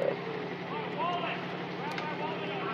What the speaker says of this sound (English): there's a boat very, very close to us. They're just about to leave the harbor.